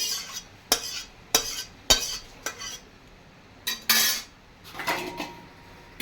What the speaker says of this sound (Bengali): আমার ডালটা হয়ে গেছে, এবার আমি ঢেলে নেব